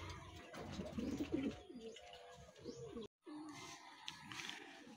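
Racing pigeons coo softly up close during a training and pooling session in Pangasinan, with low throaty coos and light chirps that break for a moment of silence and then resume.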